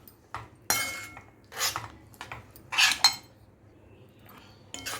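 Spoon scraping and clinking in a pan while bread halwa is stirred with cardamom powder, nuts and ghee, several short metallic rasps and knocks spaced irregularly, close and fairly soft, no talking.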